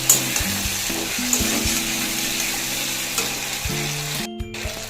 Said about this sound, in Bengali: আলুটা যখন ভালো করে ভাজা ভাজা হয়ে যাবে তখন ভেজে রাখা পটলগুলো দিয়ে দেবো।